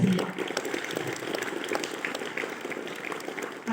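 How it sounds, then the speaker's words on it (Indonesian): Applause for the officers at a school flag ceremony, a steady patter of clapping from a gathered crowd of participants, moderately distant and even throughout. "mari kita beri dulu tepuk tangan sebagai apresiasi"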